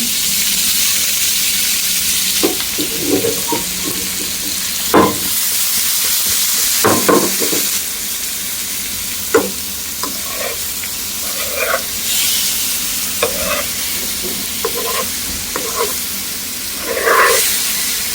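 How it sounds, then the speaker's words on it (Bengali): Mango strips fry lightly in hot ghee with a steady, soft sizzle, broken by scattered clinks and scrapes of a spoon stirring the pan; no voices. "ঘিয়ের মধ্যে হালকা করে একটু ভেজে নেব"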